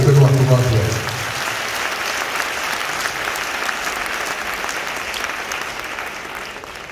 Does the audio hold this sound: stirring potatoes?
no